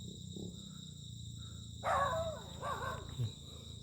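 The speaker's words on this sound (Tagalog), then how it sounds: "Yun ang aso sa baba" A dog's bark or yelp sounds a couple of times at middle distance over a steady electrical hum and quiet night background.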